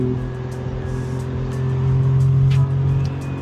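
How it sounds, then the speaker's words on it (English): A 2026 BMW M2 drives along, its engine a steady low drone heard from inside the cabin, with the note swelling louder for a moment before settling back. "Let me know what you think about the sound in the M2."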